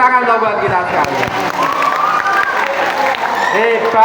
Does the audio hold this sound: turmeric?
no